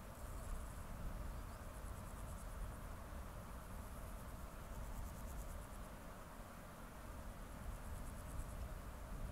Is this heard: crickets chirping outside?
yes